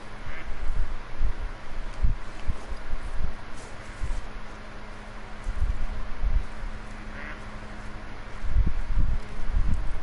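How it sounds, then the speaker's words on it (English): Ducks quacking in the hunting game Call of the Wild at a lake in the Te Awaroa reserve, repeated low calls over a rustling, windy outdoor background, moderately loud and with no talk. "Fallow deer, but it was just ducks."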